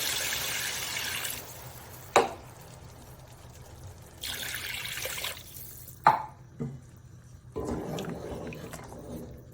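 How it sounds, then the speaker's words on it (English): Water poured from a glass into mutton curry in a pan, with two bursts of splashing and trickling separated by quieter gaps, the pan clattering sharply a couple of times, close and moderately loud. "now add 2 glasses of water, ensuring it covers the meat completely"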